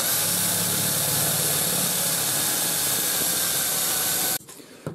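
An HSS drill bit bores into metal with a steady, loud whirring grind that holds for over four seconds, then stops abruptly, leaving faint handling noise.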